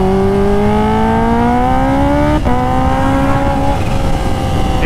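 A 250 hp Kawasaki Ninja H2 motorcycle with a Van Diemen exhaust revs up with rising pitch, briefly cuts, then drones on at a steady roar, close and continuous.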